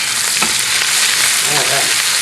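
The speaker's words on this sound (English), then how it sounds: "I'm going to throw in some roughly chopped capers" Roughly chopped capers sizzle steadily in a hot pan with peppers over medium heat, a dense, loud frying crackle with a few stirring scrapes.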